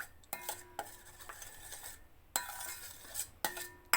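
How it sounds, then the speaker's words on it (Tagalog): A spoon stirs a mixture in a pan until it dissolves, making a soft continuous scraping punctuated by several sharp metallic clinks against the pan, close and fairly quiet. "Mix natin hanggat sa matunaw siya"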